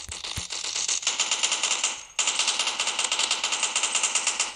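An M4 rifle fires in a video game: rapid automatic bursts that are loud and close, pausing briefly partway through, then carrying on in a steady rattling stream.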